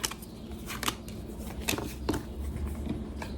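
Lenormand cards being shuffled by hand, a run of soft papery riffles and snaps close up, quiet and without talk.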